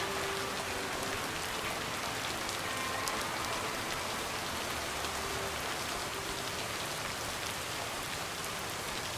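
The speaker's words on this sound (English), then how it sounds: "let's see if it will keep raining cats and dogs" Steady rain pours down in the Lake video game, a dense, even hiss of drops pattering on surfaces throughout with no letup and no voices.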